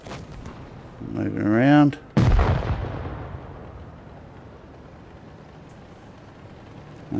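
A tank cannon in World of Tanks Blitz fires with a loud, close boom that decays into a long rumbling tail, after an engine whine and a brief voice.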